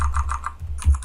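Fast typing on a computer keyboard, a quick run of close, crisp key clicks with a slightly heavier keystroke near the end.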